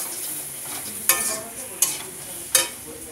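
Spices with cumin powder stir-fried in a pan give a steady sizzle, broken by three sharp scraping stirs at regular intervals, close and fairly loud.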